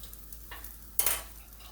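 Garlic pepper seasoning is stirred into a sizzling pan while cooking honey chipotle salmon, a soft scrape and spoon clink over a faint steady sizzle, brief and close.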